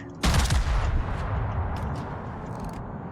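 Naval guns firing armor-piercing shells in World of Warships, a sudden loud blast of a main-battery salvo that rings out with a long rumbling tail, followed by faint mechanical clicks; close and mostly alone.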